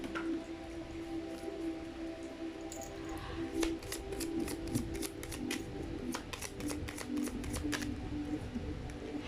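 Tarot cards shuffled and riffled by hand in a rapid run of crisp papery flicks and snaps, close and fairly soft, over a steady low hum in a quiet room.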